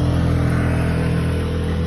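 Traffic on a busy street fills the air with a constant, loud roar of cars and engines passing close by, with no voices standing out.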